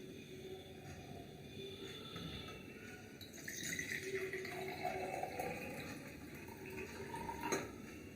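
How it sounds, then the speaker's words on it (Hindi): Water being poured into a glass for a science experiment, a soft trickling fill that grows slightly brighter partway through, quiet and close, with faint background noise. "पहले इसमें पानी डालेंगे।"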